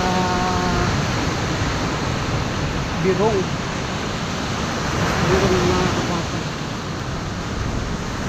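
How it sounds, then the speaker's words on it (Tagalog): Big ocean waves breaking at a beach beside a family campsite, a continuous loud surf roar with wind, under a person talking briefly. "Nakikita yung sa likod ko, lalaki ng alon."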